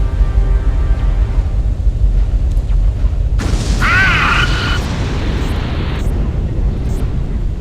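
A base blows up in the space combat game Wing Commander Saga: a heavy, rumbling boom swells midway over a constant low engine drone, with bright crackling debris before it fades.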